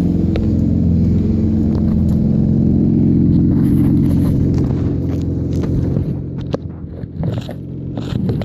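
A Hyundai Tiburon V6 with a ported and polished intake revs, a loud, close, rumbling engine drone that holds steady, then eases off and settles into a rougher idle toward the end.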